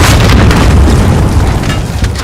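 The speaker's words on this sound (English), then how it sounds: "Explosion right next to me." A loud, close explosion in the video game Call of Duty: Warzone, a dense booming blast that fills the clip and rumbles on for about two seconds with no talk.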